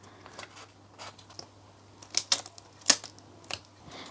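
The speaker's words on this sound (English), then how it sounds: "So I'm just going to peel the transfer tape now." Transfer tape being peeled away from Cricut-cut lettering gives a series of short, crisp crackling bursts of varying strength, close by with no talking.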